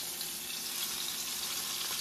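Running water at an outdoor cooking camp, a steady broadband splashing flow like a tap or pour filling a container, fairly close and continuous with no talk.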